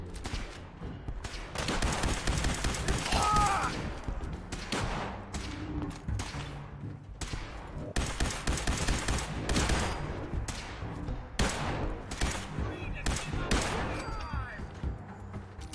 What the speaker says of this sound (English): Laser rifle isn't too accurate